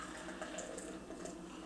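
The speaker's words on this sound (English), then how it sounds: "I'll start pouring it sideways since it looks like we're going to have a big head" The Alchemist Focal Banger American IPA poured into a glass, a soft, steady splashing and fizzing pour heard up close and faint throughout, with no talking.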